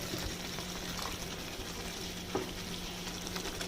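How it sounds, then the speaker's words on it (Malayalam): Hot water poured into thick beef caldereta gravy with carrots and potatoes, a continuous close bubbling and sizzling hiss that holds steady at even loudness, with one brief clink near the end. "നമ്മുടെ ഗ്രേവി ഒന്നുകൂടെ തിക്കായതുകൊണ്ട് ഇതൊന്ന് ലൂസാക്കാൻ വേണ്ടി ഞാൻ 1 കപ്പ് ചൂടുവെള്ളം കൂടെ ഒഴിച്ചു കൊടുക്കുന്നുണ്ട്"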